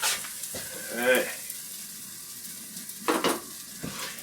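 Tuna melt sandwich sizzling in a pan, a soft steady frying hiss with a few scraping clinks of a utensil against the pan and brief bits of talk.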